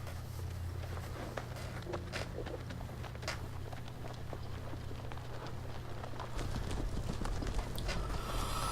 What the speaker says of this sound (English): I mean, they have horses. It's not like they're like galloping off. They just walked off.